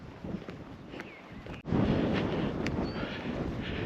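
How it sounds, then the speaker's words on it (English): Gusty wind buffets the microphone during a walk along a countryside drain. After a brief lull it rises to a stronger, steady roar that stays loud for the rest of the moment. "So the wind's getting up a bit now, but walking into the wind doesn't help."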